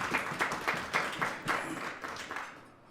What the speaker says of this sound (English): You should give yourself a round of applause because this is democracy.